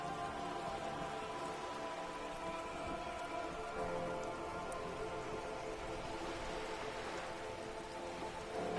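Steady rain falling in the video game Disco Elysium, a dense, even patter on surfaces that holds at a constant moderate level throughout with no voices.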